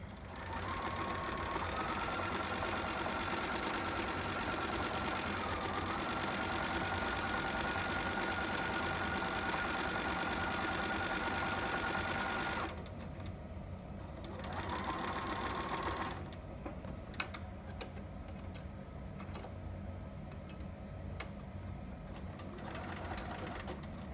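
A sewing machine runs continuously while stitching over a thick seam in a Brynlee two-piece sitter pattern, a close steady whir that stops abruptly around thirteen seconds, resumes briefly, then gives way to quieter clicks and handling.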